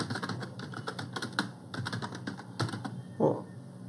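Rapid typing on a computer keyboard while entering a dummy WordPress post: close, steady clatter of key taps with brief pauses and a louder thump near the end.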